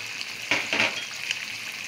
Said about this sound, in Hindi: और अच्छी तरह से भून लूंगी चिकन को मैं।